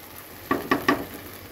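Rice stirred in a frying pan, three quick scraping stir strokes over a soft steady sizzle, close and fairly quiet, with no talk.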